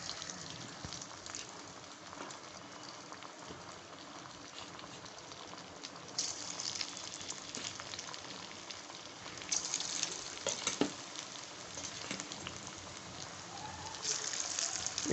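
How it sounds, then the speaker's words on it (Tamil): Paneer pieces for paneer 65 deep frying in hot oil, a continuous quiet bubbling crackle with bursts of brighter spattering now and then. "இப்போ நல்லா கலந்துட்டு நம்ம ஆயிலில் போட்டு டீப் ஃப்ரை பண்ணி எடுத்துடலாம்"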